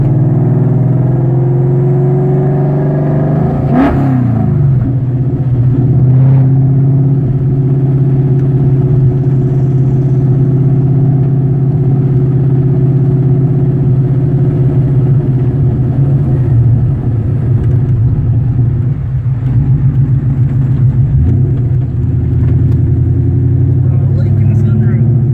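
A 10-second drag car sits with its engine running in a loud, steady, close-up idle, with a short blip of revving early on and the deep rumble holding throughout.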